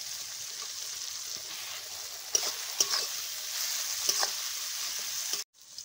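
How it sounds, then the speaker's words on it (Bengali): Grated ginger and chopped garlic sizzle with lightly fried onions in a pan, a steady hiss of frying punctuated by a few scraping stirs, ending abruptly. "এখন এর মধ্যে গ্রেট করা আদা আর রসুন কুচি দিয়ে দিচ্ছি।"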